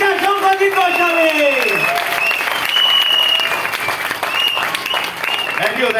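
Loud, sustained applause from a crowd at a Vestige company event, with a voice talking over it and calling out through the clapping.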